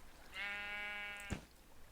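A sheep in a video game gives a single clear, wavering bleat lasting about a second, followed by a short soft thump, with no talk.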